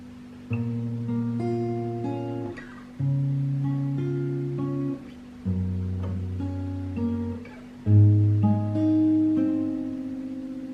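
Slow fingerpicked guitar from a song lets plucked notes ring together into chords, in four unhurried phrases with brief gaps, close and clear with no talking.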